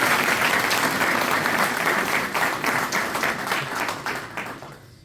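Audience at an event in Bradford bursts into loud, sustained applause, dense clapping that gradually fades over a few seconds.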